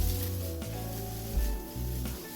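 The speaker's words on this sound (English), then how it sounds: "Fry for 15 seconds, then add a cup of carrot and a cup of cabbage. Stir fry for 1 to 2 minutes." Green bell pepper, green onion, carrot and cabbage stir-frying for a ramen dish, a continuous sizzle with occasional clatters and stirring knocks from the pan, close and moderately loud.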